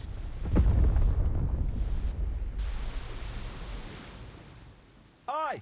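A submarine fires a torpedo in the War Thunder Mobile game: a sudden rushing, rumbling burst that slowly fades into a watery hiss, followed by a short warbling electronic tone near the end.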